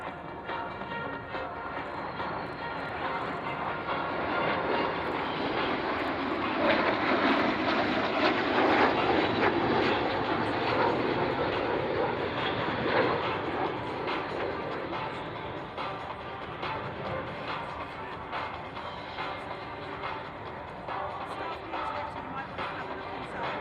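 An Avro Vulcan flies past at the Royal International Air Tattoo 2011, its deep engine roar swelling to a peak midway and then slowly fading, with a commentator's voice over the public address.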